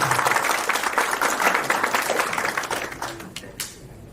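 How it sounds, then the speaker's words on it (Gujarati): An audience breaks into loud, dense applause for a man named Yusufbhai, the clapping sustained for a few seconds before thinning and fading out, with no talking over it. "યુસુફભાઈ માટે એકવાર ફરીવાર તાળી"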